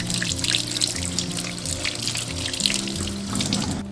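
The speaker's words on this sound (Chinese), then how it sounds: "首先把牛肉清洗干净" Tap water runs steadily into a sink while a piece of beef foreleg is rinsed, a close continuous trickle and splash with slight shifts as the meat is handled.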